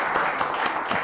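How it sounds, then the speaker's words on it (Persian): A talk-show studio audience breaks into brief applause, a quick burst of close, rhythmic clapping lasting about a second with no talking. "تشویقش کنید"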